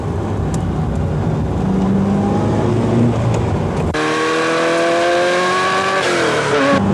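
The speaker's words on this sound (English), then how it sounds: "And now we'll be accelerating down the straight." A race car accelerates hard down a straight, engine loud and close with rising harmonic whine through each gear, a wheel-spin roar giving way to a clean climbing engine note, with no talking.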